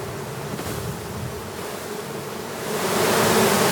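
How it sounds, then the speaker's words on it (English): Honey bees dumped onto a hive landing board as they walk inside, a steady soft buzzing hum with broadband hiss, growing slightly louder toward the end, no voices. "The bees that you dump on that landing board, they just walk right on in."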